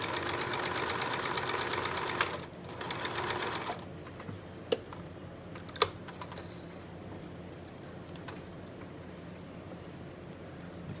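An old sewing machine runs with a fast, steady mechanical chatter for a few seconds, then stops, leaving faint clicks and a quiet room hum.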